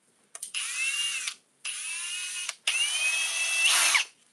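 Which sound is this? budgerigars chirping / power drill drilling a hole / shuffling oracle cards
power drill drilling a hole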